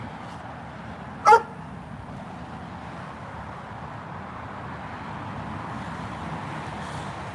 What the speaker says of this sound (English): Did you hear him bark?